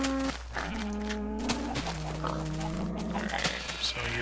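Video game pigs grunt and oink in short tonal calls over a steady low hum, mixed with other farm animal noises.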